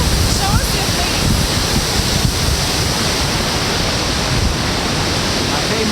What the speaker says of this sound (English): It's a symphony of water drops.